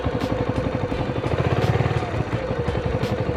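Motorcycle engine running close and loud as throttle is applied, a rough pulsing rumble that swells slightly mid-way before settling back.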